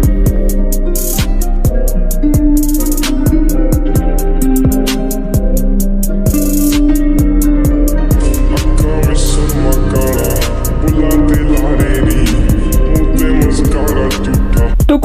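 A song processed with spring reverb for a lo-fi version, playing loud and continuous with a steady beat, thick washed-out tones and a brief dropout near the middle, no talking over it.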